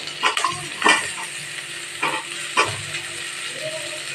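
Sliced onion and turmeric sizzle in a hot pan while a spoon stirs, a steady frying hiss broken by several sharp scraping clinks, close and clear.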